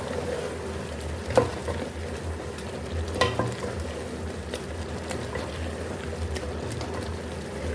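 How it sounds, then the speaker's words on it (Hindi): Chicken and chickpeas fry with spices in a pan for Lahori murgh cholay, a low steady sizzle broken by a few sharp scrapes of stirring, close but fairly quiet. "पाँच से 6 मिनट को हम मसालों से अच्छे से भून लेंगे"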